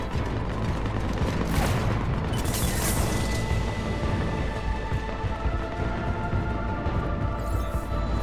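Heavy booms and bursts of gunfire rumble through a battle in Mass Effect 3, dense continuous explosions and shots at mid distance without speech.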